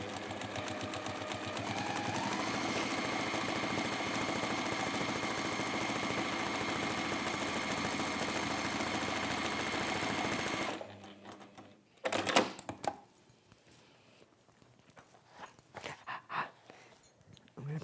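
A sewing machine top stitches a pressed fabric seam, running loudly and continuously at close range for about ten seconds before stopping, followed by quieter handling knocks and rustles.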